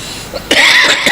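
A single close, sharp cough bursts out after a quiet moment, loud and harsh, with a little breathy throat noise around it and no talking.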